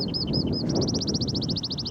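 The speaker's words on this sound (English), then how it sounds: "Wonderful skylark there giving me an accompaniment." Skylark song on a countryside walk between Hassocks and Shoreham-by-Sea, a fast run of bright repeated chirps over steady wind rumble.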